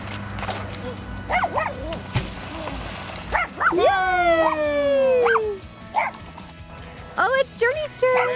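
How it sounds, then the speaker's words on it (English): A dog barks and whimpers outdoors, with short yips and a long rising-falling whine, close and fairly loud among other noise. "Oh, it's a dog."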